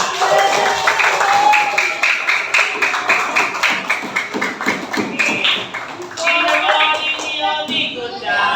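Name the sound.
class clapping hands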